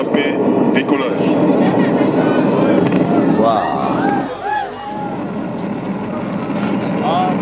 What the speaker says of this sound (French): Allumage Vulcain. C'est parti. Allumage EAP, décollage.